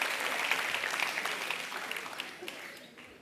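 A studio audience on a TV quiz show claps in a dense, continuous round that slowly fades toward the end, with faint voices underneath.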